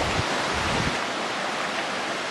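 Kimsey Creek flowing beneath a trail bridge on an Appalachian Trail hike gives a steady broad rush of water, close and continuous, with a couple of soft knocks near the start.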